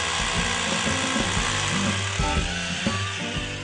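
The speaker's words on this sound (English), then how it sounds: "To make that happen, Danny bores holes into the concrete wall using a carbide masonry bit." A drill with a carbide masonry bit bores holes into a concrete wall, giving a loud steady grinding whir with rhythmic rattling pulses, close and continuous without speech.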